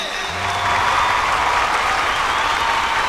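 Dense, steady audience applause fills a Holi special Bhojpuri singing reality show, loud and continuous, swelling slightly after the first half second.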